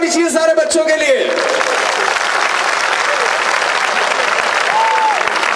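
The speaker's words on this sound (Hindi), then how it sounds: "जोरदार तालियां होनी चाहिए सारे बच्चों के लिए।" Audience applause for children at a world record event fills the clip as dense, loud, continuous clapping from a large crowd. A voice speaks briefly at the start, and a short whistle-like tone rises above the clapping near the end.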